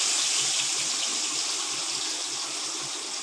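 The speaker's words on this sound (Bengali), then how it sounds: "এখন দিয়ে দিলাম চিকেনগুলো, ভালোভাবে ভেজে নিব খুব সুন্দরভাবে।" Chicken pieces dropped into hot oil to fry, a steady hissing sizzle that holds at an even level throughout, fairly quiet and with no talk.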